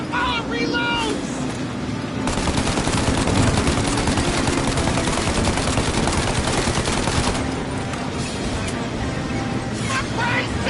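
An armored car's mounted machine gun fires in the video game Mafia. The gunfire comes as a dense, sustained burst lasting several seconds, loud against a windy rumble, with shouting voices around it.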